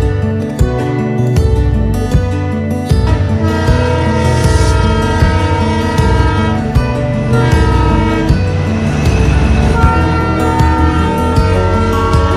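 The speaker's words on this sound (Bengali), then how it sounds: "টয় ট্রেন এসে পেছনে দাঁড়িয়েছে" Darjeeling toy train pulling in on a rainy monsoon day, its horn sounding loud and close with rich sustained tones over rolling rail noise.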